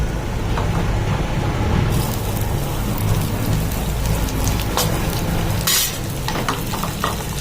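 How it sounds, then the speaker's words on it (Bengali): Onion pieces and crushed garlic frying in hot oil while making a simple home lunch, a steady dense sizzle with scattered crackles running loud and close throughout, no voices. "পেঁয়াজটাকেও লাল লাল করে ভেজে নেব।"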